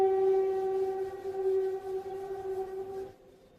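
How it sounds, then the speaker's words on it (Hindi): Train horn in the background, a steady sustained tone that holds for about three seconds before cutting off, fairly loud over a low rumble with no speech. "दोबारा से बैकग्राउंड में ट्रेन आते हुए इसको इग्नोर कर देना"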